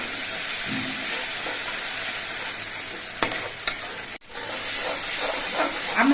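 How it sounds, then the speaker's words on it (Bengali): Red lentils, egg and spices with cumin and turmeric paste sauté steadily in a pan, a continuous hiss of frying with a few sharp stirring scrapes and a brief drop near the end, no talk. "এবার সব কিছু দিয়ে আবার কিছুক্ষণ কষিয়ে নিতে হবে"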